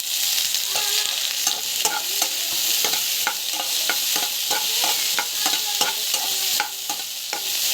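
Ivy gourd sautéing in hot oil in a pan: a continuous close sizzle broken by frequent, rhythmic scrapes and taps of a spatula stirring the pieces, steady and fairly loud, with no speech.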